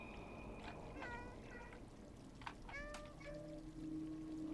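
A cat meowing in the video game Stray, several short, clear meows in quick succession over a quiet ambient background with faint trickling water.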